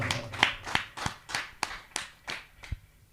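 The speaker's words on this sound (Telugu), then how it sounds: "గట్టికి చప్పట్లు కొడదాం" Eight sharp hand claps in a steady, evenly spaced rhythm, fairly close and distinct, with no voices.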